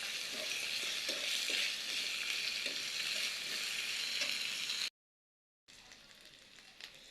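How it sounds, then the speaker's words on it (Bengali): Garlic, ginger and spice paste sizzles steadily in a hot pan while being stirred, with scattered scraping clicks, for a taro curry with jatka fish; the frying cuts out briefly, then resumes. "এগুলো এখন আমি ভালো করে নেড়ে দেব।"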